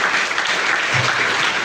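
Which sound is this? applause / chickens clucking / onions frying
applause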